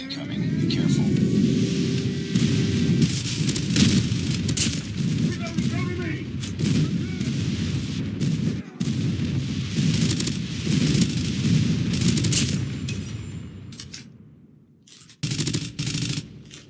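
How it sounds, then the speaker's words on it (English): Enemy airstrike explosions rumble through a Call of Duty: Mobile hardpoint match, dense booming and gunfire-like bursts filling the scene continuously and loudly, with game voice callouts mixed in, before a brief drop-out near the end. "Enemy airstrike incoming."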